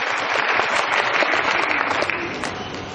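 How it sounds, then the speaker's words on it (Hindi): Loud, dense applause from an audience at an RCM business gathering in India, a steady wash of many hands clapping close by for the full stretch with no talk over it. "आपकी जोरदार तालियों के बीच"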